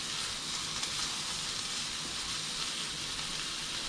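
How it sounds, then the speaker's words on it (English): Beef searing in its own rendered fat in a very hot pan, a steady, close, loud broadband sizzle that holds evenly throughout with no talking. "So you want to even sear on all sides of the meat."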